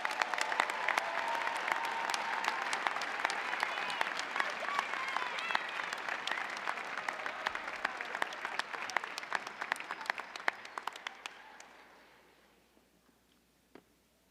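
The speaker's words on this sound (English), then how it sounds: "join me in one big round of applause for these graduates" Applause for graduates at a university fall commencement ceremony, a large crowd clapping steadily in a big hall, thinning out and dying away near the end.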